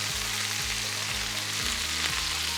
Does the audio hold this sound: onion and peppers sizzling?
yes